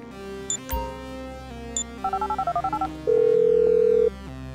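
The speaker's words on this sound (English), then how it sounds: "I'm making the call." A phone call is dialed in a video game on a plug-and-play console: two short electronic chirps, then a rapid run of about ten dialing tones, then one steady sustained tone, all clean and close.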